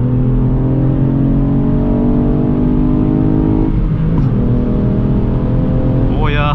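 A 2022 Ford Fiesta ST X with 200 PS accelerating hard in sport mode, its engine note rising steadily and loud from inside the cabin before a gear change and renewed climb, with a voice talking over it.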